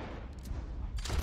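Gunshots ring out in a quick-draw duel in Red Dead Redemption 2, a muffled bang near the start and a sharper, louder shot toward the end over low rumbling game ambience.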